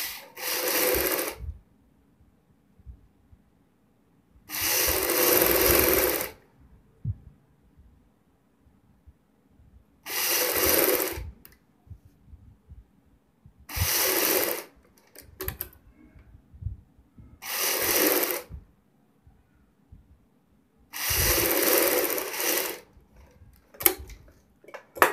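A sewing machine stitches a folded fabric strip onto a kurti neckline in six or seven rapid whirring bursts of one to two seconds, separated by pauses filled with faint handling and rustling of cloth.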